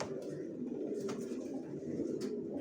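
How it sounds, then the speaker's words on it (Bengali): Original racer grizzle pigeon chicks coo softly and continuously up close, a low murmuring burble with a few brief higher flutters. "অরিজিনাল রেসার গ্রিজেল বাচ্চা এগুলো"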